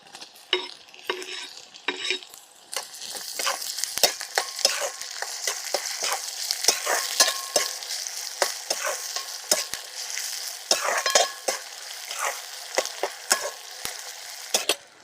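Tomatoes are tossed into a pan of browned onion for a Maharashtrian stuffed eggplant dish. A spoon scrapes and stirs in quick, irregular strokes over a soft, steady sizzle, close and moderately loud, with no voices.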